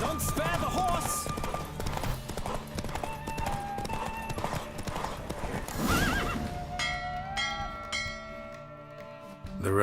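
Horse hooves clop rapidly in a gallop during a race in The Witcher 3, with a loud whinny near the start, a bell ringing and game music, fading out toward the end.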